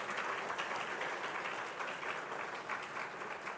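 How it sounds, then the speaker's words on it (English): A hall audience at an industry conference claps in a steady, dense wash of applause that holds for a few seconds at moderate distance, with no voices over it. "And you just clapped them twice."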